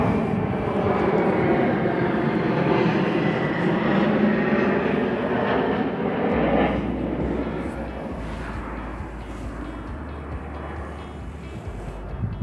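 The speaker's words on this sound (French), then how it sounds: "désolé il y a un avion." An airplane passes overhead outside in a garden, a broad steady roar that rises and then slowly fades, with a low rumble carrying on beneath it.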